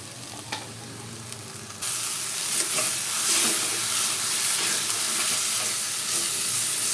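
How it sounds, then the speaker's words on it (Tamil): Turmeric being sautéed and stirred in a hot pan, with a loud hiss bursting in partway through and then holding as a continuous sizzle with scraping stirs. "வதக்கிக்கலாம் நல்லா. மஞ்சள் போட்டுக்கலாங்க."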